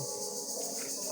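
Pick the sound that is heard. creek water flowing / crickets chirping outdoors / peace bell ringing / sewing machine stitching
crickets chirping outdoors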